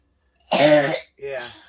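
A single sharp cough, close and loud, followed by a shorter throaty clearing sound.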